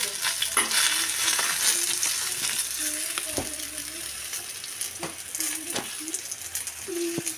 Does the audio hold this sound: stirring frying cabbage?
yes